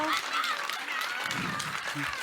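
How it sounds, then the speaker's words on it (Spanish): Brief audience applause at the close of a talk on numeral systems, a soft, fairly distant patter of clapping with murmuring voices mixed in. "Les damos un aplauso."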